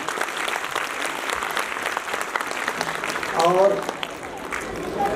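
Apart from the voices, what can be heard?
applause for the speaker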